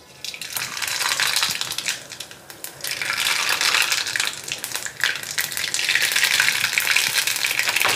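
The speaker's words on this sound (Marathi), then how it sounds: "आता हे तेल तापलेलं आहे, ह्याच्यामध्ये मी घालते मोहरी" Mustard seeds sizzle and crackle in hot oil for tempering a raw mango pickle, a dense, close frying hiss with rapid popping that builds and stays loud throughout.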